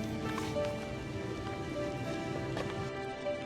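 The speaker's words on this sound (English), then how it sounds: "as the rain is coming down" Rain coming down steadily over a garden with vegetable plants in grocery-tote grow bags, a soft continuous patter with faint scattered drops throughout.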